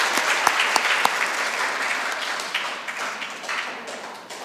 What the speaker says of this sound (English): let's give a round of applause for our veterans and families.